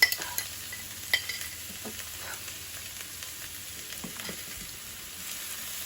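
Onions frying in hot oil for beef bourguignon, a quiet continuous sizzle with a couple of sharper clinks of a utensil against the pan near the start, close and without talk.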